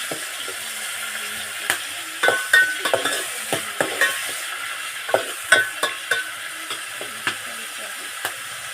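A tomato mixture is stirred and fried in a pan, a continuous sizzle broken by repeated sharp scrapes and clicks of the spoon against the pan, close and clear.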